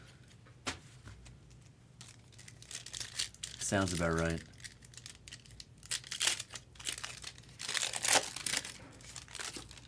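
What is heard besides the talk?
1994 Upper Deck SP card packs crumpling as opened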